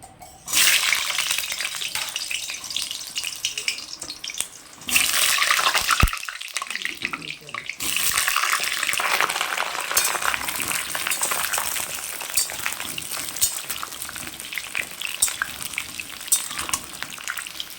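Potatoes sizzle steadily in hot oil in a kadai, a loud continuous frying hiss that jumps in intensity at a few points as pieces are dropped in one by one.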